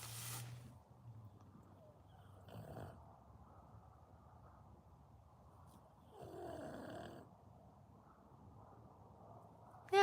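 Slow, heavy snoring repeats at intervals of a few seconds, each breath a low rasping rumble, quiet and close in an otherwise still room.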